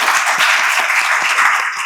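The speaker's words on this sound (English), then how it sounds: "A huge round of applause for sir." Dense, continuous audience applause fills the hall at a literature festival session, a steady broadband wash of many hands clapping at once with no voices above it.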